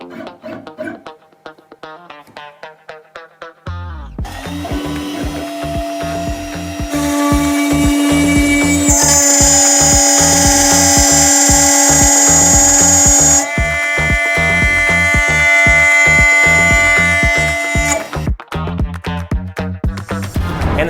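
CNC router on a Shapeoko 5 Pro cutting cherry wood with a keyhole bit, a rising whine with stepper motor pulses, a loud sustained cutting screech in the middle, then quieter stepping movements.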